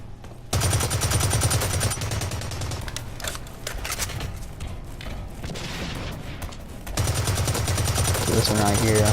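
Rapid full-auto assault rifle fire from an AK-style weapon and a bullpup rifle in the shooter game Blacklight Retribution, loud sustained bursts with brief pauses between them.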